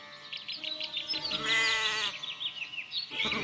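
Several goats bleat in quick succession, high and wavering, close by, with one longer, louder bleat in the middle.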